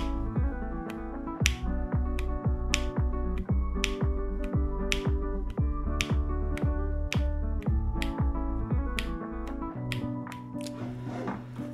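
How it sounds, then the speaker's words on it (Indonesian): Someone types steadily on a mechanical keyboard fitted with WS Jade switches, giving a fast, even run of crisp clacks from the presses and releases, close and alone. "Dia pada saat ditekan memang ada suaranya, tapi pas saat dilepas dia nggak ada suaranya guys."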